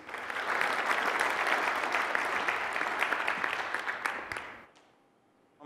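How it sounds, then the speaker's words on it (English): Dense, full round of audience applause at a Nagios tech conference, loud and sustained for about four seconds before thinning out and fading to near silence. "How about a nice big round of applause for Leland Lammert?"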